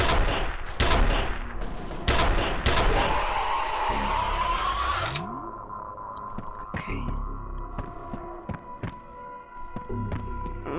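Gunfire in the first-person shooter F.E.A.R., loud sharp bursts of shots and explosions in the opening seconds, then scattered distant cracks and impacts over a sustained mechanical hum.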